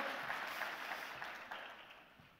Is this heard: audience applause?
yes